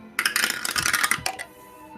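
Dice clatter and tumble rapidly down a dice tower, a quick burst of clicks that settles after about a second.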